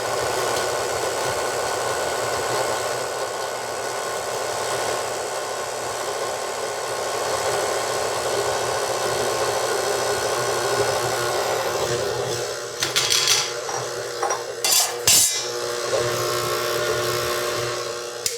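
A stand mixer fitted with a beater blade churns Danish butter cookie dough as flour is added, giving a steady motor drone with a brief cluster of clatter and knocks near the end.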